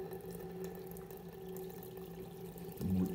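Sparge water flows continuously through a mash tun during beer brewing, a steady low gurgle over a constant hum, with a louder rush near the end.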